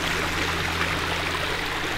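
Water from a natural spring flowing into a stream, a steady broad burbling rush, close and continuous with no voices.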